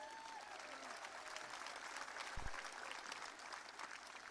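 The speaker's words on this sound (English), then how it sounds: "You can applaud for yourselves." Graduating high school class and student athletes being applauded at an outdoor ceremony, a distant, steady wash of crowd clapping, fairly faint and diffuse, with a soft tonal sweep early on.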